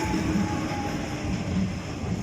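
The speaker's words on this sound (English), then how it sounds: "we've got a Jubilee line coming in," A London Underground Jubilee line train pulls into Wembley Park station, a steady loud rumble of wheels and motors close by with a faint whine running through it.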